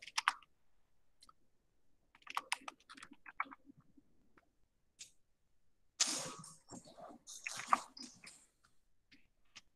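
Typing on a computer keyboard during a C++ and Python programming lesson sounds as bursts of close, crisp key clicks with pauses between them, growing busier and louder toward the end, with no talking.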